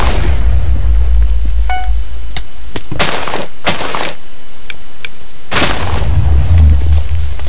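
Several separate blasts from bombs exploding in a Minecraft Bomberman-style game, sharp loud bursts spaced irregularly over a low rumbling background, with no talking.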